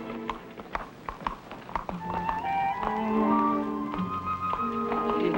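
A horse named Bertha clip-clops with quick, sharp hoof beats during a riding lesson, the rhythmic clopping close and clear over steady background music.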